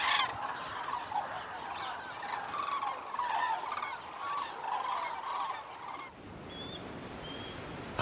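Cranes call in a noisy flock, a mix of overlapping honking, bugling cries at moderate distance, continuing for several seconds before dropping off to a few scattered calls.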